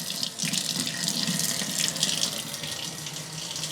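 A kitchen tap runs steadily into a sink while measuring a few tablespoons of water for cooking, a loud close continuous gush without speech.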